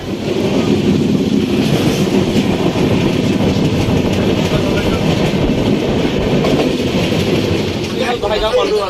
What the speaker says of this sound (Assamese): ট্ৰেইনখন আহি পালোঁ এতিয়া যাব ওলাইছোঁ